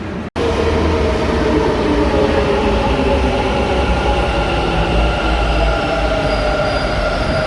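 A metro train in Bangalore rumbles loudly and steadily, with a constant low roar of wheels on rails and faint high squealing running through.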